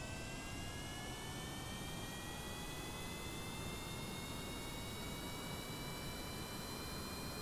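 Jet engines on a stock Kerbal Space Program plane roar at full throttle during runway takeoff, a steady, noisy whoosh with a faint rising whine, fairly quiet overall and unbroken throughout.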